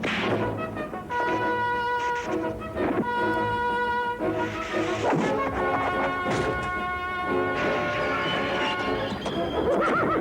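A black stallion neighing, several loud shrill whinnies in bursts amid hoof thuds and commotion, in a dramatized animated scene.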